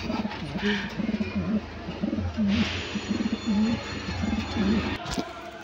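Fancy racing pigeons in a loft coo repeatedly in low, rolling phrases, several birds layered close together with a steady rhythm, a brief thump near the end.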